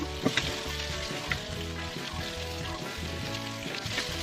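Pork belly stir-fries in a hot pan, a continuous soft sizzle with occasional scraping and stirring clicks from the utensil, close and steady throughout with no talking.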